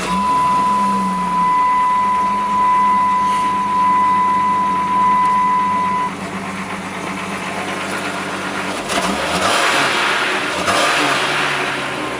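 An old 4WD truck engine running on four-year-old fuel, a steady loud idle rumble throughout, roughening and swelling near the end as it is revved.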